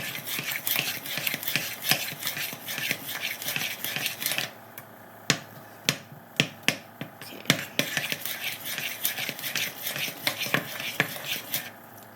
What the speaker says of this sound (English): you got to be very diligent about mixing it and stirring it